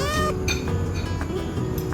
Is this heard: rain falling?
no